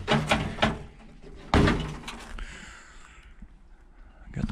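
A passenger door on an old 1950s–60s Chevrolet sitting in a junkyard is worked open and shut, giving a few heavy metallic thunks and a loud slam near the middle, close by, with outdoor ambience between.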